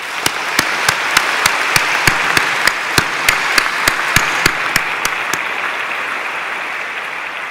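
Audience applause for volunteers at the opening plenary of an academic conference. Sparse, steady clapping with a few sharp, regularly spaced claps standing out over a softer spread of hands. It thins out toward the end and no one speaks.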